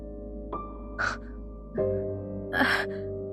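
A woman in an audio drama pants breathlessly, several loud separate gasping breaths at uneven intervals over a low sustained musical drone.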